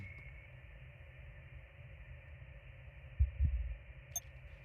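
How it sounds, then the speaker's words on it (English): A faint, low thumping pulse like a heartbeat comes through a steady radio hum from a sensor radio on a hostile moon in a video game, with a brief louder throb near the end. "Let's listen to this, record it. Oh, that heartbeat."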